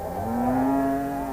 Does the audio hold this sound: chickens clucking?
no